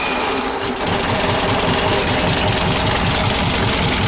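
An engine driving an alternator, fitted with a 1 5/8 Sidewinder exhaust, idles steadily and close up, a fast even chugging pulse throughout with no talk.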